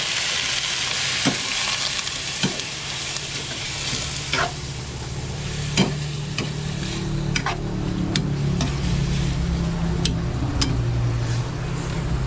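Chicken pieces drop into hot oil with golden-browned ginger, garlic and onion for a dinuguan dish, raising a loud, steady close sizzle and fry with occasional utensil clicks and scrapes throughout, no talking.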